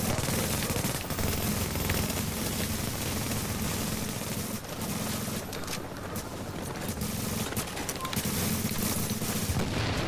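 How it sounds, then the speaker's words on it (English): Battle in The Division video game: a grenade blast and rapid bursts of gunfire crowd a loud, dense mix, with crackling shots and booms running nearly continuously. "I got hit by my own grenade."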